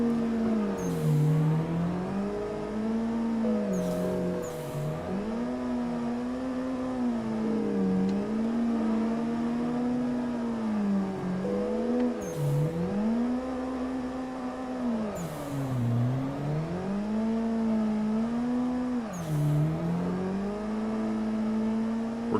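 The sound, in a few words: car engine revving while drifting in a sim racing video game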